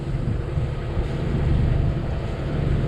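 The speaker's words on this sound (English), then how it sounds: "We've got the engine running because we're running the watermaker." A sailboat's engine runs steadily to power the watermaker while under way at sea, a constant low drone blended with wind buffeting and water wash, no voices.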